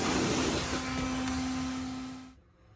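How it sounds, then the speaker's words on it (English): A vacuum cleaner runs steadily while cleaning a refrigerator's condenser coils, a loud broadband whir with a steady motor hum that cuts off sharply near the end, leaving quiet. "now let's go ahead and use that as a regular vacuum again"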